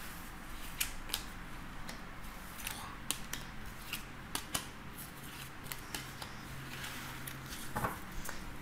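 Tarot cards being laid out one by one on a table during a daily reading, giving a string of soft, sharp card slaps and slides at irregular intervals over a quiet room hush.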